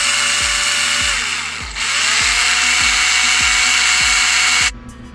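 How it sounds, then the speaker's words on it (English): Power drill boring out a pin hole on a Kraton 6S RC car, a steady high whine with repeated rhythmic bites and pitch dips as the bit catches, close and loud, stopping abruptly near the end. "you have to drill that out a little, so this way that pin will then go all the way inside."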